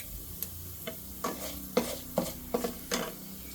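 Mustard seeds splutter in hot oil as a scattered series of about eight sharp, close pops over a low, quiet sizzle, the bursts coming faster toward the end.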